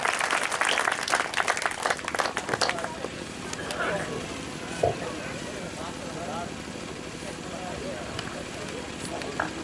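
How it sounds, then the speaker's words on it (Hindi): Strong clapping from an audience at a Hindi poetry gathering bursts out first, then thins into scattered, quieter applause and room noise with a voice occasionally audible. "जोरदार तालियां बजाएं दादा रविंद्र शुक्ल।"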